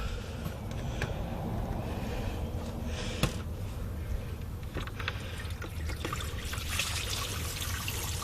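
Water trickles and splashes steadily as it drains out of the radiator of a 1996 Acura Integra, faint and continuous with a few small spatters.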